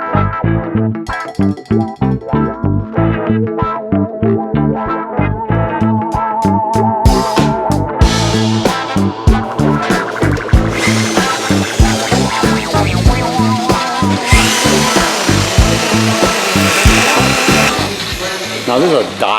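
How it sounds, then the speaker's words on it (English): Dual-action polisher wet sanding a surface with a 3000 grit sponge, its motor a loud, steady, close whir that holds throughout with a rhythmic pulsing and rises in pitch partway through. "I'm gonna wet the surface and then I'm gonna go over with the DA."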